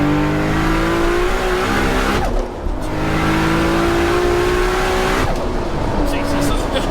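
A 1000 bhp Toyota Supra pulls hard in third gear from a rolling start, its loud engine note climbing steadily with a brief dip near the middle. It roars on continuously close up, with an occupant's voice faintly audible beneath it.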